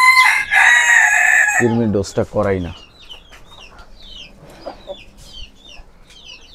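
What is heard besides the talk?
chickens clucking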